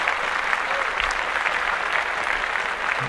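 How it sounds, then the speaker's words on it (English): Podcast audience applause, a dense, steady burst of clapping from a small crowd, close and fairly loud throughout. "Clap that up."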